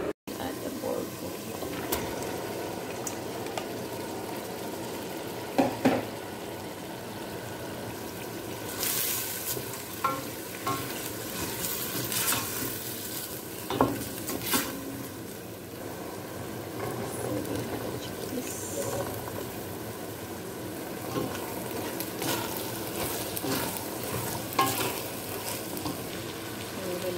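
Bulgur goes into a sizzling pan alongside meat and chickpeas for a Turkish pilaf, with intermittent scraping stirs and soft frying hiss throughout, a few louder clatters of the spoon against the pan.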